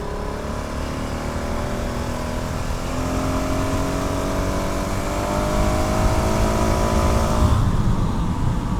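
A KTM motorcycle being ridden, its engine droning steadily and close with a slowly climbing pitch, heavy wind rush beneath, then shifting tone near the end.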